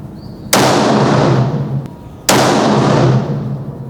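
Two sharp, loud rifle shots firing Sierra bullets at an outdoor shooting range, spaced about two seconds apart, each cracking sharply and then trailing off in a long echoing decay.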